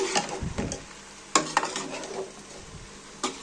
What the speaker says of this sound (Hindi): अब मैं इसमें डालूँगी आलू